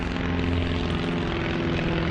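A propeller airplane flies over near an airport, its engine drone a loud, steady, continuous rumble throughout, with no talk.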